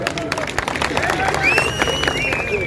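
Audience clapping and cheering for the cameraman at a comedy and mimicry show during a music festival in Kushtagi; dense, steady crowd applause with hubbub and voices throughout.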